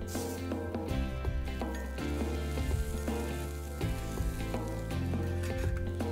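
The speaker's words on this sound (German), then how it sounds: "die nutze ich jetzt, um die Apfelspalten kurz anzubraten" Apple wedges sizzle and fry on a cooktop beside a BORA Classic 2.0 downdraft extractor, a steady close crackle running beneath louder background music.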